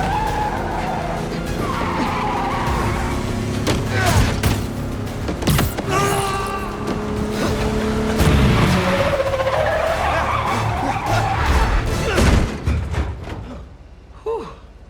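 A car in Marvel's Spider-Man 2 drives hard with engine roar and tire noise, then skids to a stop, rumbling close and loud before fading out at the end.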